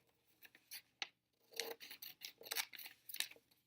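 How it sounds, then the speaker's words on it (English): Scissors snip through the top paper flaps of a handmade flipbook, giving a run of crisp, close cuts in quick uneven bursts with short pauses between. "you're going to cut just the top flaps"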